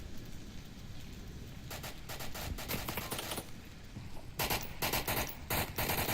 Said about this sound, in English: Mobstar shooting at the fence